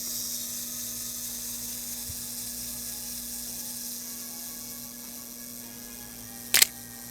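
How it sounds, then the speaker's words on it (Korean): A Pentax ME Super film camera's advance lever mechanism gives one short, sharp mechanical click near the end, over a steady low hum and faint room hiss. "소리가 날 때까지 태엽이 감기는 소리"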